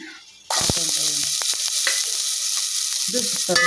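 Chopped onion is dropped into hot oil for hotel-style idli sambar and bursts into a loud, close sizzle that keeps crackling steadily, with a few stirring clicks and scrapes along the way.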